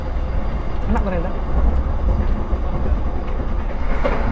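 Inside a Gajayana executive-class passenger train, the carriage gives a constant low rumble with faint rhythmic clatter from the rails, and a voice speaks over it.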